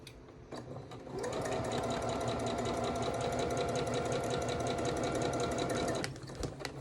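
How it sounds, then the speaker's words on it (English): A sewing machine stitches quilting fabric corner to corner for a calico table runner, running in a steady fast whir for about five seconds after a brief start, then stopping, close and alone. "we're going to sew corner to corner"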